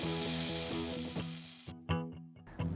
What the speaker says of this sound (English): and then we throw them in the skillet.